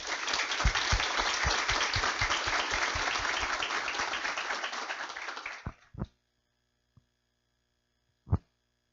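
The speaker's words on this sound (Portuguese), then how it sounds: "convido a eles com uma salva de palmas" Audience applause at a SESI SENAI event in Joinville, dense sustained clapping that fills the room for nearly six seconds, then breaks off into a few scattered final claps with a quiet pause between them.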